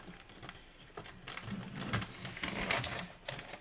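Someone loads paper into a home printer, with soft clunks and rustling taps that build to a louder clatter near the end, close up and with no talk.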